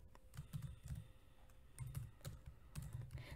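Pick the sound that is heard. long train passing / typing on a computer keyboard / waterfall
typing on a computer keyboard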